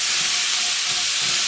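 Chopped vegetables flash-sautéing in hot oil over slightly lowered heat for Swiss steak, giving a steady, loud, close sizzling hiss with no speech.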